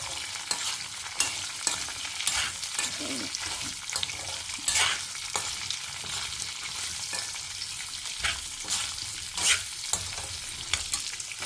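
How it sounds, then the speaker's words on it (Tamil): Raw mango pieces, dried red chillies and salt sauteing in a pan, a steady close sizzle with scraping stirring strokes recurring throughout, no voices. "மாங்காய், வத்த மிளகா, உப்பு, சும்மா ஒரு பேருக்கு வதக்கினா போகிறோம்"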